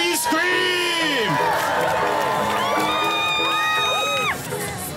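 A crowd at the Corgchella 2019 costume contest screams and cheers loudly, with overlapping high whoops and rising and falling yells that sustain throughout, then thin out just before the end.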